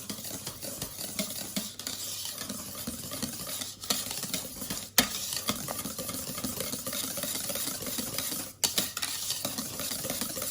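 A spoon gently stirs white chocolate cake mixture in a bowl, a soft continuous scraping and swishing with occasional louder knocks against the side, with no talk.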